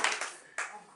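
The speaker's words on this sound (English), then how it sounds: "Round of applause." Short bursts of studio audience applause on a Family Feud game show, two quick waves of clapping about half a second apart, fairly close and fading out.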